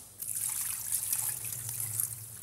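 Cold tap water runs steadily over zucchini being rinsed in a kitchen sink while stuffed zucchini with chicken and mushrooms is prepared, giving a close, continuous splashing trickle with no talk.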